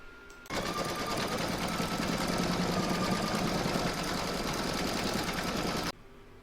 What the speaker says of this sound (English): I'm now going to pop this back into my machine and stitch round number 8, and that's going to zigzag all the raw edges